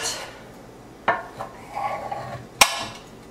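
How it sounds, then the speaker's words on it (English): A knife cuts through cornbread in a metal pan, giving a few sharp clanks and knocks against the pan with softer scraping in between, close and fairly clear. "we're gonna cut up our cornbread"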